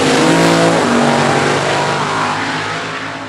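At a drag strip, a Chevy Vega funny car and a 2002 Chevrolet Corvette race side by side, a loud, continuous full-throttle engine roar close by that slowly fades as the cars pull away.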